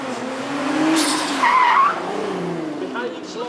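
A tuned Nissan Skyline GT-R of around 700 horsepower runs on track at the Beaulieu Supercar Weekend, its engine droning steadily, with a short, sharp tire squeal midway through.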